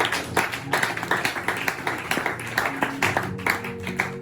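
Church congregation at a seminar clapping in a steady, rhythmic beat to acclaim Jesus, loud and close, with repeated sharp claps over a murmur of voices.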